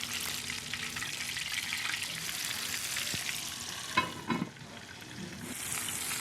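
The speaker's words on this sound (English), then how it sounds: "now we're frying the second" Steady, close sizzling and crackling of chicken frying in hot oil in a pan, with a brief clatter of a utensil midway.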